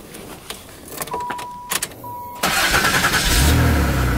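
A car started with a 3D-printed key turned in the ignition cylinder: key clicks and dashboard chimes, then the starter cranks and the engine catches into a loud, steady idle, heard close.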